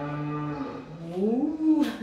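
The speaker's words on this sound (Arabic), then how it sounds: "شي بقرة هادي" A cow at a family Eid al-Adha celebration lows once in a long, loud, drawn-out moo that rises in pitch toward the end, close by and with no talk over it.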